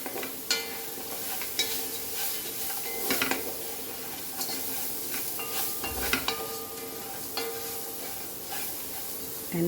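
Ingredients for Goan coconut rice roasting in a pan, a continuous sizzle broken by repeated scrapes and clinks of a spoon against the pan, close by with no voices.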